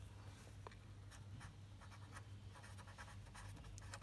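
Numbers written by hand during a maths lesson, a quiet steady scratching of pen or pencil strokes on paper with short bursts and pauses, heard alone against faint background hum.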